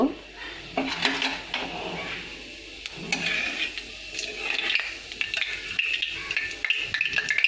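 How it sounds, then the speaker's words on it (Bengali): Oil crackles and sizzles faintly as cumin seeds fry, broken by several sharp clinks and scrapes of a spoon against a metal pan. "জিরেটা ভাজা হয়ে গিয়েছে"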